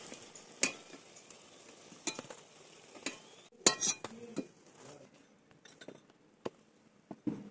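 Fried potato and egg fritters lifted from hot oil with a metal utensil, giving scattered clinks and scrapes against the pan over a soft sizzle, close and moderately loud, with no talking.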